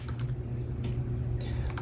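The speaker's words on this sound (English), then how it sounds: "we're going to type in a command." Keys clatter in quick light taps on a MacBook Pro keyboard as a short command is typed, fairly close and quiet with no talk.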